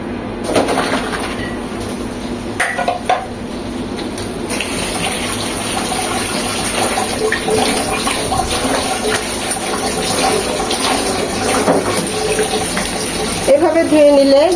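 Water pours and gushes steadily as boiled taro corms are drained in a kitchen, a continuous splashing flow under sustained background noise with a few faint bird calls.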